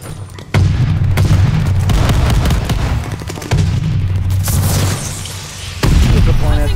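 Booming explosions and gunfire from a Call of Duty: Vanguard match, with loud low-frequency blasts and sustained rumbling combat noise filling the scene, several heavy bursts in close succession with no one talking.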